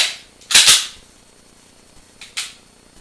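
Pistol drawn from a holster and loaded with snap caps during dry-fire practice: two sharp, close mechanical clacks about two seconds apart, with no talking.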